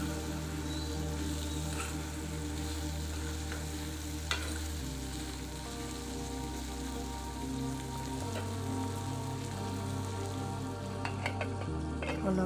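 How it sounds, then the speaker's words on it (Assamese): Taro stem mixture sizzles steadily in a hot pan while being stirred, a continuous close frying hiss with a low background hum and occasional soft scrapes. "এতিয়া ভালদৰে মিশ্ৰণখিনি লৰাই ল'ম।"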